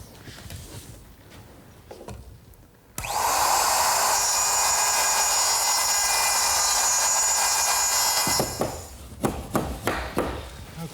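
A router cutting a tenon in wood along a flipped, clamped template screams in a loud sustained whine for about five seconds, framed by quieter workshop clatter and handling noises before and after.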